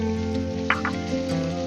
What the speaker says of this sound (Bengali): পেঁয়াজ আলু একসঙ্গে ভালো করে কষে নেব।